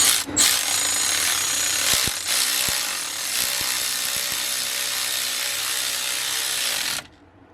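A ratchet wrench tightening a bolt during an alternator change on a 2003 Dodge Ram 1500, heard as a steady close rasping drone with a few sharp clicks, running alone for about seven seconds before stopping abruptly.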